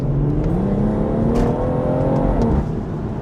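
A BMW M140i accelerates hard along a back road, its engine giving a steady, full-throated drone that climbs gently in pitch and holds loud and close for the whole stretch, with no talking.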